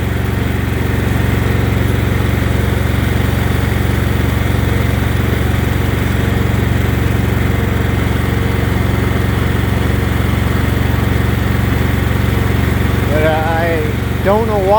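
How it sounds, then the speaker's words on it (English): A Briggs & Stratton lawn mower engine being broken in under load drones loudly and steadily close by, a constant buzzing hum that fills the whole stretch, with a few squeaky chirps near the end. "Putting a little bit of load on the engine to break her in."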